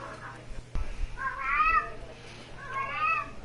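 A cat meows twice in drawn-out, wavering calls, fairly close, over a low steady hum, after a brief thump.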